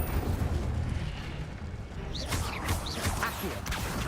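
In Hogwarts Legacy gameplay, an Incendio fire spell erupts with a loud, rumbling whoosh and roar of flame that fills the scene, followed by crackling bursts and swirling sweeps of magic.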